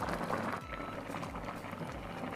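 A pot of spicy Korean mackerel soup bubbles at a steady boil, a dense close simmering burble with a soft low rumble throughout.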